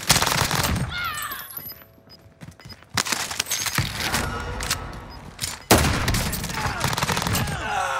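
Bursts of rapid automatic gunfire and booms in the Warzone video game, loud and dense, with a brief quieter lull before the shooting resumes; a voice speaks over it.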